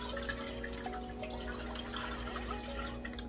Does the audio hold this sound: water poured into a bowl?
yes